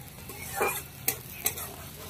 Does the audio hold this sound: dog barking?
no